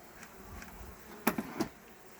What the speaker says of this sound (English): Just bees. Little worker bees at the moment.